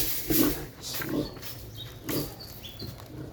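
Pig on a farm giving a few short, rough grunts at irregular intervals, moderately close, amid low background noise.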